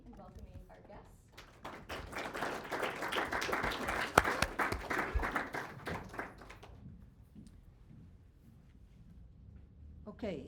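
A debate audience at a university event applauds to welcome the guests, a swelling burst of clapping that builds, holds for several seconds and then fades, close and fairly loud, with no speech over it.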